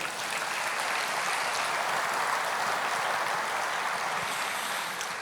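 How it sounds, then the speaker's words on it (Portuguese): A church congregation applauds together during a worship service, a steady, dense wash of clapping that holds evenly for several seconds with no voices over it. "Você pode aplaudir o Senhor."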